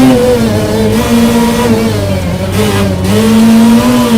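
A 1.8T-swapped Toyota MR2 engine revs loud and steady while driving, a sustained mid-pitched drone with shifting pitch from start to finish, no talk over it.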